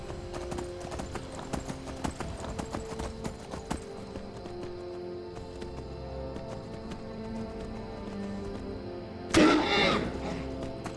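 Horse hooves clip-clopping at a steady trot in the Skyrim video game, with overlapping game sounds and music behind them and a sudden louder burst near the end.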